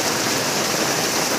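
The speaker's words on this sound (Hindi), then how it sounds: "इधर बहुत ज़्यादा बारिश, देखो नाले और सड़क एक साथ हो गए।" Heavy rain pours onto a flooded residential street, where the drain and road have merged into one body of water. It makes a dense, steady, close hiss with no break and no voices.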